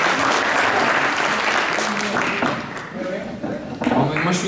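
Sustained applause from a crowd gathered for a commemorative ceremony in Vic, dense and steady throughout, with a few voices breaking through near the end.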